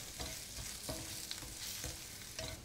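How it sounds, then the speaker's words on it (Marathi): Dry spices for a fresh matar masala being stirred and sautéed in a pan, a steady close sizzle broken by a few scraping stir strokes, with no voices. "सगळे सुके मसाले एकजीव झाल्यानंतर 2 मिनिटं हे व्यवस्थित परतून घ्यायचं."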